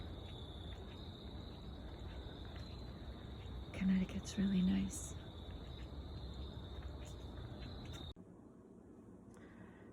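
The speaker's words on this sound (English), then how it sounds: "you can hear the frogs and the crickets" Frogs and crickets call at night in rural Connecticut, a steady high insect drone with a dense low chorus, faint and continuous, briefly under a spoken remark before the chorus drops away near the end.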